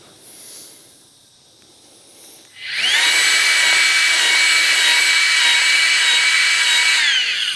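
Milwaukee grease gun being reloaded, its rod pushed in while the pressure relief valve is held, giving a loud steady hiss that starts abruptly partway through and holds to the end, after a quieter stretch.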